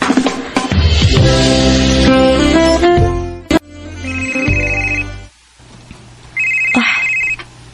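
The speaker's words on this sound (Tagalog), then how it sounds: "Si Jelly ning nanawag." An incoming call sets off a phone's loud, melodic electronic ringtone, playing a run of bright notes and then shorter repeated beeps with pauses between them, heard alone.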